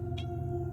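A house cat gives a single short meow over a steady low indoor hum, close by and clear.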